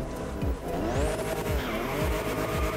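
Cars in The Crew Motorfest skid with squealing tires and knock into one another, the game engine roaring steadily beneath the bumps and scrapes throughout.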